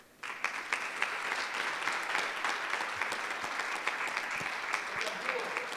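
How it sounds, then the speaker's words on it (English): Audience at a panel discussion on the Great Migration applauding, a steady round of many hands clapping that starts abruptly and holds evenly throughout, heard from within the room. "give another round of applause for Jordan Taylor."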